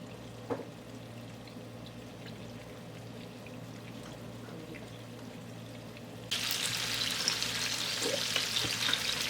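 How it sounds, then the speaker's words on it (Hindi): Onion, tomato and green chili sauté lightly in a pan with a faint, even sizzle that swells noticeably louder and brighter over the last few seconds. "अब इसके अंदर ये देखिए इस तरह से प्याज, टमाटर और हरी मिर्च डाल दें। इसको हल्का से सौटे करेंगे।"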